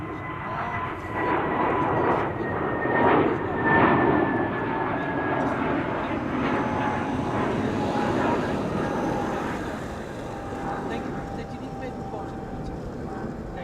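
Airliner of KM Malta Airlines departing Amsterdam Schiphol Airport, a steady broad engine roar with a whining tone, loud and sustained throughout, fading slightly toward the end, with speech-like sounds picked up alongside.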